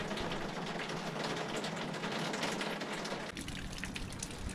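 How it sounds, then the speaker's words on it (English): Rain drums on the thin metal roof of a boat moored in Canada, a dense, steady patter heard close and continuous throughout with no talking. "It is raining."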